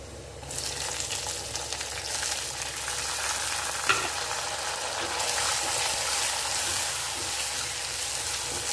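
Garlic and onion sauté in a pan for a raw mango kootu. A steady sizzle swells loudly as the ingredients go in, then stays dense with stirring scrapes and a brief knock. No one speaks.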